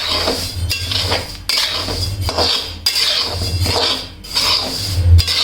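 Sesame seeds for til laddoos being dry-roasted in a pan, stirred steadily so they don't burn, with close, loud scraping and metallic clinks of a spoon against the pan in repeated strokes.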